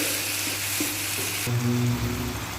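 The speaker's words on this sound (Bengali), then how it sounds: "আমি একটা লবণ দিয়ে কিছুক্ষণ ভাজবো।" Eggs fry with salt in a pan of hot oil, a steady close sizzle with faint stirring clinks, swelling louder and brighter partway through.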